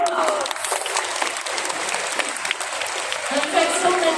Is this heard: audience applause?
yes